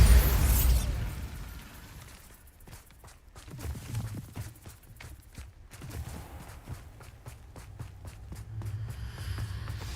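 A Bombarda blasting spell goes off in Hogwarts Legacy: a loud burst at the very start, followed by a scattering of sharp cracks, falling debris and clattering impacts that thin out over several seconds.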